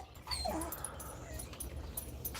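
A dog whines and whimpers in short, high-pitched bursts, close by, over a low rumbling background.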